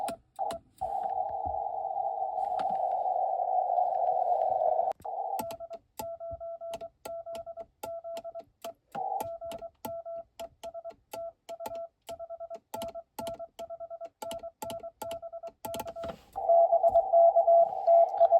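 Morse code CW sidetone from a ham radio contact during a winter Parks on the Air outing at Utah Lake: a steady tone keyed into rhythmic dits and dahs, with long held stretches at the start and end and no talking.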